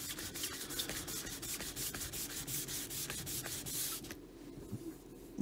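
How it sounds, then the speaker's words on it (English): Sandpaper rubbed over the clear coat of a Lyon and Healy harp during repair, steady rhythmic back-and-forth strokes up close and fairly quiet, then slower, lighter passes toward the end. "Things like that I want to get out, so I just sand it away"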